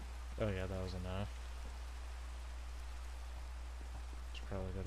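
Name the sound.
rain in the video game Minecraft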